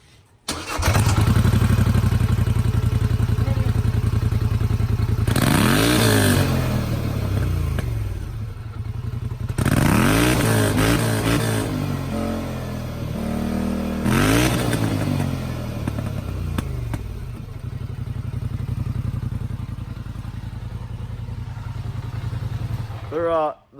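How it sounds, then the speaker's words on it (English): A 2018 Polaris Sportsman 850 ATV with its stock exhaust idles steadily, then revs sharply three times in separate bursts that rise and fall, loud and close, with voices talking now and then. "It's a pretty decent exhaust for a stock exhaust coming on a stock machine."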